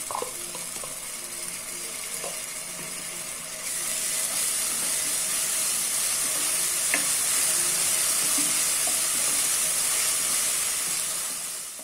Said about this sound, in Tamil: இஞ்சி பூண்டு பாருங்க நல்லா வதங்கிருச்சு.